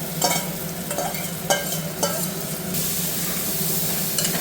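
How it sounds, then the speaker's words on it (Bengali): Rice and lentils for khichuri fry in a pan, a steady close sizzle broken by a few sharp scrapes of stirring, with no voices. "চাল আর ডালটা একটু ভাজা ভাজা হবে, তারপরে দেওয়া হবে গরম জল।"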